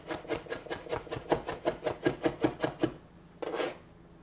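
A knife chops cilantro on a cutting board in quick, steady strokes, about a dozen crisp cuts, then a pause and one brief scraping sweat across the board.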